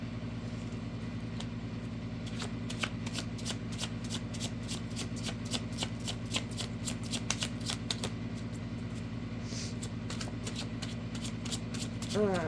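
Tarot cards are shuffled in quick, repeated riffling bursts, close and crisp, over a steady background engine-like hum.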